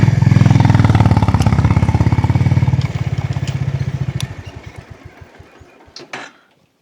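A motorcycle engine idling loudly up close while being parked in a Spiti Valley village, its steady throb slowing into spaced chugs as it winds down and shuts off, followed by a brief clatter.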